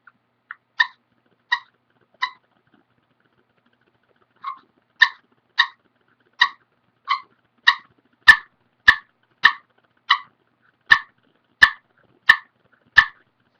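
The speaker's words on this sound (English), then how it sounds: "I'm going to teach you guys how to cluck" Turkey clucks struck on a slate turkey call: a few sharp, evenly spaced clucks, a pause, then a longer steady series of crisp clicking notes, close and alone with no talk.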